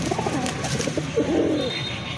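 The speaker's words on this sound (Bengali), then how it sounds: "ওই যে ওইটা হচ্ছে নর কবুতর মাশাল্লাহ ডাকতেছে" A male pigeon coos up close in a pigeon sale setting, soft rolling calls with one clearer, longer coo near the end, over faint background noise.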